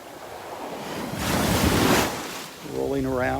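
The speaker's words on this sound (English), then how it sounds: "the sand washing out from underneath your feet as the waves go out" Ocean waves wash onto a beach in North Naples, Florida, one surge swelling and fading under steady wind noise, then a voice begins to talk near the end.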